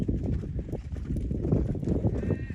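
A horse canters on soft ground, its hooves beating a rapid, rolling three-beat rhythm up close, with faint background sounds around it.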